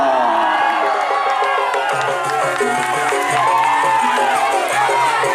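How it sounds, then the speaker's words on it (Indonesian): Crowd cheering and applauding at a Kerapan Sapi bull race final in Pamekasan, a dense steady roar of many voices with shouts and whoops, while an announcer's amplified voice cuts in over the top throughout. "kasih aplaus yang meriah tukang pelor"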